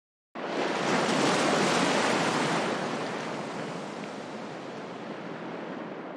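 Ocean surf washes in a steady, broad rush that begins abruptly after a short silence, swells loudly, then eases slightly and holds as continuous wave noise with no voices.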